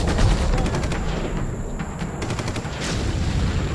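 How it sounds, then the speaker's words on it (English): Rifle gunfire in an animated DC Comics story, a dense burst of loud cracks over a rumbling, noisy background, with sharper reports recurring across the short stretch and no voices. "Isaac fires his rifle into the air"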